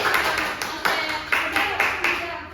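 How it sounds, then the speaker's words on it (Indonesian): Classroom applause during a micro-teaching lesson: a small group claps in a few loose, uneven bursts, moderately close and short-lived, with some voices mixed in. "Beri tepuk tangan."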